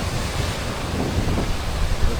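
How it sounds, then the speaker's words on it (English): Strong wind buffets the microphone while rough sea waves surge and break nearby off Bimini, a continuous loud rush with no talking. "Today's a windy day. It's rough out there."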